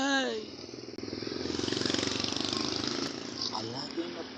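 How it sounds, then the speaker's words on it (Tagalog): A motorcycle with a loud modified exhaust roars nearby on a street, its engine throbbing in a rapid steady pulse that swells and eases, with a voice speaking over the start. "Wang-wang na tambutso."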